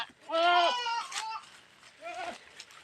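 Goats tethered on open farmland bleat in two wavering, nasal calls, a longer one up front and a shorter one after a pause, fairly close and clear with no talking.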